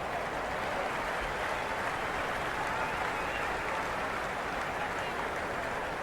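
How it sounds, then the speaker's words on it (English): A broad, steady roar of a distant video game cricket ground crowd cheering during an Australia versus England T10 match, constant and noisy with no clear break. "the crowd have joined the party. It's pretty noisy at the ground."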